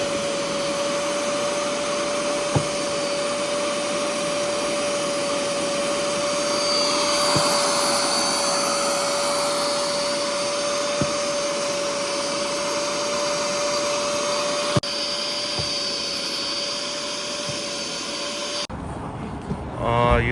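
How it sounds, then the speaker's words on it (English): Steady machine whine of a steam cleaner working on a BMW 528i during detailing, a constant high tone with broadband hiss held for about nineteen seconds, then cutting off abruptly near the end. "Using steam too for more better cleaning"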